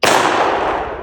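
A single close gunshot fired at a target: a sharp, loud crack followed by a short, fading echo, with no voices.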